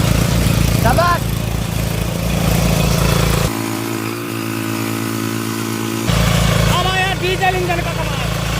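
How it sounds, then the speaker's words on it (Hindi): A diesel engine power tiller churns up hard, stony soil, its steady loud drone running throughout, dipping briefly in the middle before returning at full strength, with a voice calling out over it. "डीजल इंजन का कमाल,"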